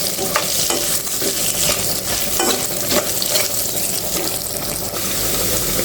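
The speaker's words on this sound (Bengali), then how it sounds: "এটা দিয়ে আলু আমি সুন্দর করে ভেজে নেব" Potato pieces frying in a pan with salt and turmeric, a dense, continuous close sizzle with scraping stirring strokes and small crackles, no talking.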